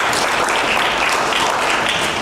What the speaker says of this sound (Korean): 말씀해주신 임유리 선생님께 다시 한번 박수 부탁드립니다.